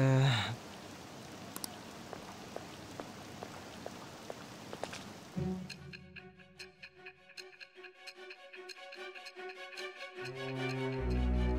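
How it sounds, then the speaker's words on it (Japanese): Soft, steady rainfall patters with faint ticking drops during a rainy street scene in the Japanese-language Persona 5 game on PS4, then gives way to quieter ambience and a low tonal swell near the end. "大した雨じゃねえだろ。"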